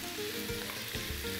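Meat for a shawarma-style pasta dish sizzles and fries in a hot pan, a dense continuous crackle with a few soft stirring knocks, steady and close with no talk.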